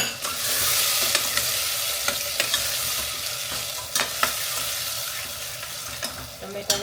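Tomatoes cooking in a pan, stirred with repeated scraping strokes over a steady broad sizzle, fairly close and without talk.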